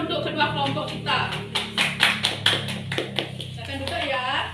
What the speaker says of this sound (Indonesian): jadi tetap berikan tepuk tangan untuk kedua kelompok kita